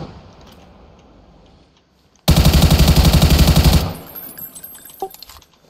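Rapid automatic gunfire bursts loud and close for about a second and a half in a multiplayer shooter video game, firing rounds at an enemy beside a building, then dropping to quieter ambient game sounds with a faint click.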